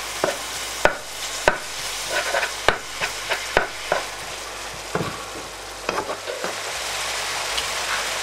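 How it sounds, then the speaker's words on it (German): Minced meat, stewing more than frying, sizzles and bubbles in a pan, with repeated sharp scrapes and knocks of a utensil stirring it at irregular intervals. "bei dem Hackfleisch, das kocht jetzt eher als dass es brät"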